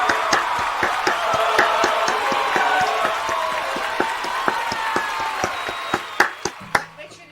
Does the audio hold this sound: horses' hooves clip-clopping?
no